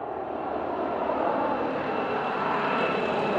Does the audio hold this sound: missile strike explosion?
no